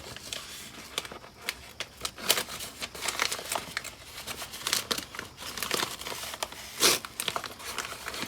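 Close, crinkly tearing and crackling of packing tape being cut and pulled off a cardboard box of shipped orchids, in short irregular bursts with no talking.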